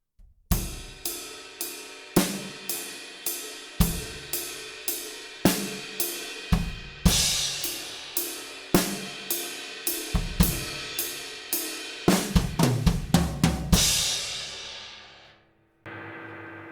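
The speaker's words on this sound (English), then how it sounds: "if I was playing a basic 6/8 pattern, it would just sound like this." Drum kit plays a basic 6/8 rock beat, with steady cymbal strokes over regular kick and snare accents, close and loud, building to a quick fill and a crash that rings out before stopping.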